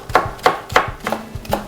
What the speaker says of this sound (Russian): Мелко нарезаю немного петрушки